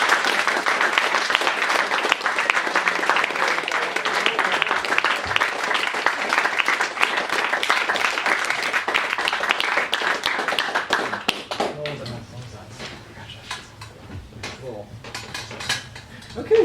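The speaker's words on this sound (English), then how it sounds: "a huge round of applause for these guys" A crowd gives a big round of applause for competitors at a 2022 MSO closing ceremony, dense clapping for about eleven seconds before it thins out under a speaking voice.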